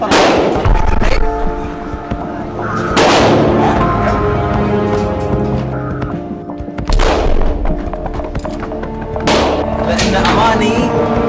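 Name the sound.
gunshots at a shooting range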